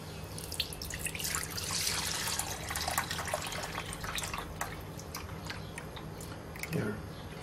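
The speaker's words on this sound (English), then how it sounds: "I'm going to pour the rest of this out into another pan" Melted butter for ghee pours from one pan into another, a steady close trickle and splatter with small clinks, faint voice-like sounds underneath.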